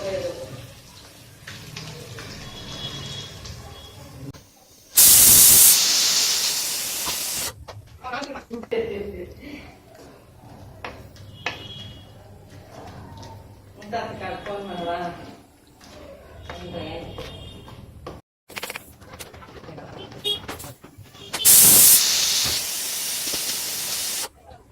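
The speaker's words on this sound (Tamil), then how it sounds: "நம்ம அரைச்சி வச்சிருக்க தக்காளியை ஊற்றுவோம்." Ground tomato paste hits a hot pan while lamb intestine curry cooks, with loud bursts of sizzling and steaming hiss arriving in a few sharp surges. Talk runs between them.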